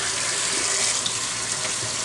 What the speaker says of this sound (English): Wash all the vegetables, which I'm doing.